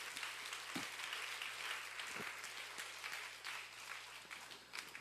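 A church congregation applauds during a Sunday worship service, steady dense clapping filling the room without pause, moderately loud and continuous throughout.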